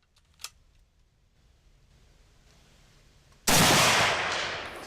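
A single loud rifle shot cracks out at an outdoor shooting range, sharp and close, followed by a long bright decaying echo after a small earlier click and quiet background.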